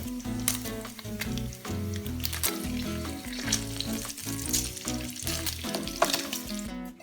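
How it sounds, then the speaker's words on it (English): Bacon sizzles and crackles steadily in a hot pan, close and loud, with a continuous hiss throughout. "While your bacon is still sizzling"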